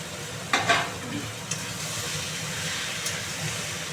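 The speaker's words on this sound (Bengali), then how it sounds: "এবার এটাকে ভালো করে কষাবো মাশরুমগুলোকে" Mushrooms sizzling in a hot pan with oil are turned over by a spatula, steady frying hiss punctuated by a few sharp scraping stirs, close and moderately quiet.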